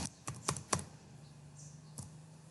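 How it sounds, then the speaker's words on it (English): Quick keystrokes typing numbers on a computer keyboard for AutoCAD drawing input, three close clicks in rapid succession, then a pause and one final key press over a faint hum. "I will just click on keyboard 3000 and press the sign of feet."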